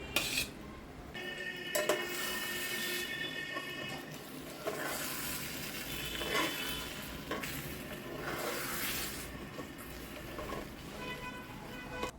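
Spice paste fries in a pan in a home kitchen while a metal spoon stirs and scrapes, giving a soft sizzle under frequent clinks of utensil on cookware.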